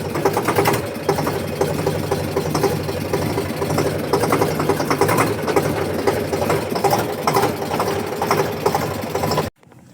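A tractor engine labors steadily while pulling a stuck car out on a farm track between planted fields, a loud, continuous, rough mid-low drone with knocking pulses that cuts off abruptly near the end.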